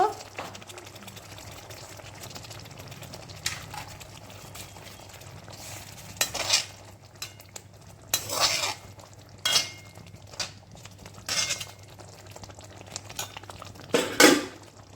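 Aar fish goes into water in a cooking pan with a few short, scattered splashes and clatters against quiet kitchen background.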